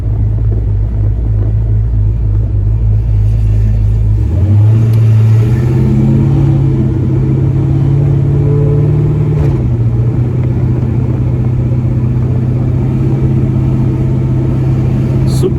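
Supercharged 6.2-litre car engine revving hard during a ride along, a loud deep rumble that climbs in pitch around four seconds in, holds, then drops back to a steady throaty drone.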